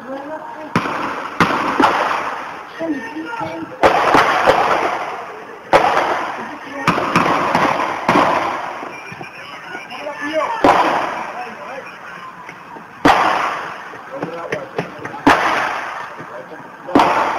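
Sharp gunshots ring out on a university campus during a police shooting incident, a series of loud cracks spaced irregularly over the recording, with people talking in between.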